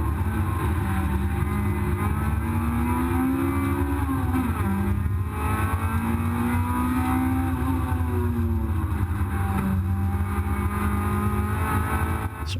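A race car engine roars steadily at high revs throughout on the Brands Hatch circuit, its pitch rising and falling slightly as it accelerates and shifts, close and loud.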